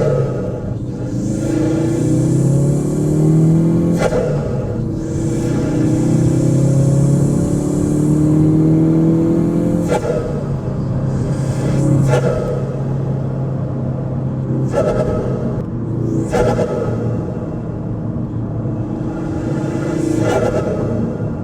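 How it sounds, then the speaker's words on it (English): A Ford Focus RS fitted with a 2J Racing cowl intake and sound suppression chamber pulls through several gears on a drive, its engine rising in pitch repeatedly with sharp shift breaks and a steady rumbling drone, with no talking. "I'll give you guys a test drive of what this new cowl intake sounds like, paired up with the sound suppression chamber."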